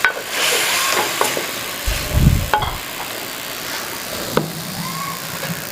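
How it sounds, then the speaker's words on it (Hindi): Chicken jalfrezi masala fries in a pan with a steady, soft sizzle throughout, broken by a few scraping stirs and a brief low rumble near the middle. "इसको अच्छी तरह भूनना है आपने।"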